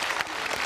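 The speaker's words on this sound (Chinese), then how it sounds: "我掌声感谢这两位" A short burst of clapping from a studio audience at a Chinese talk show, dense and fairly loud, cut off almost at once.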